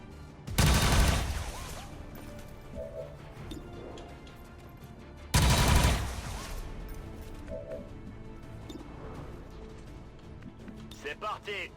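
Gunfire in XCOM 2, two loud bursts of volleyed shots several seconds apart, each ringing out and decaying into background game sounds, with a person talking in between.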